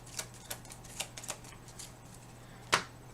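Board game cards for Apex Theropod are shuffled by hand at a table, a few soft flicking riffles followed by one sharper snap near the end, close and quiet with no talk.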